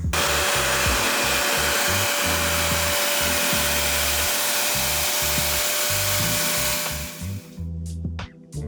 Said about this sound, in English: Now notice I am just rolling over my scalp with the REVAIR